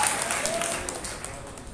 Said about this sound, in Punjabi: ਤਾਲੀਆਂ ਵਜਾ ਕੇ ਆਖੋ